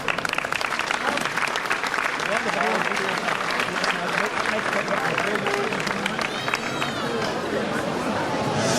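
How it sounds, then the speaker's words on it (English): A crowd at a senior championship final claps for the referees and officials, with loud continuous applause mixed with chatter and nearby voices throughout. "give them a round of applause there, boys"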